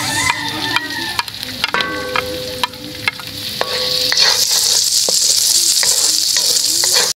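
Garlic and onions are stirred as they fry in a pan at home: scraping and clinking strokes ring out over a crackling sizzle that swells louder and more constant in the second half, with no talk.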